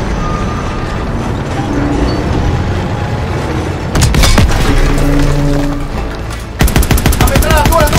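Gunfire in a World War II game battle: dense, loud machine-gun bursts, then heavy booming shots and rapid crackling fire against a tank, with shouting voices underneath.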